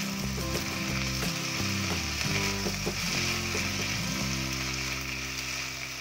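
Drumstick leaves sauté in a pan with a steady sizzle and soft stirring, while a low tonal hum runs underneath throughout.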